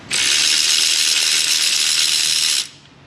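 A ratchet spins steadily for about two and a half seconds, loud and close, while loosening bolts on the 5.3 engine of a 2012 Chevrolet Avalanche 4X4, then stops abruptly.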